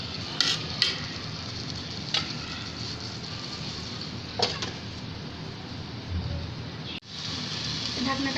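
Spatula stirring potatoes and beef in a pan for beef singara filling, soft scraping over a faint sizzle with a few sharp clanks against the pan and a lid clatter near the end.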